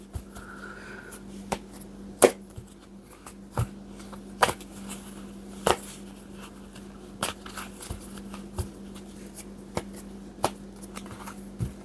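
Tarot cards from a Vice Versa tarot deck being shuffled, heard as irregular dry snaps and riffling clicks scattered across the stretch over a low steady hum, quiet and close with no talking.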